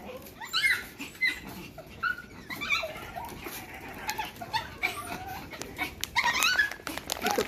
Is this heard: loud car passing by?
no